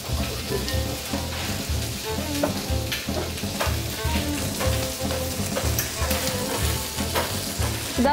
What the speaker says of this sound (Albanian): perime cilat po fërgojnë në një tigan